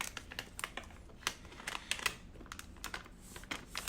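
Slow, careful peeling and unwrapping of iPhone 12 Pro box packaging: sharp little clicks, taps and crinkles in an uneven, irregular rhythm, close and fairly quiet.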